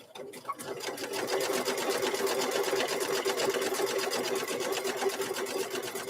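A sewing machine closes up raw seams on fabric bowl koozies, a steady, close rapid-fire needle chatter that runs continuously after a brief start.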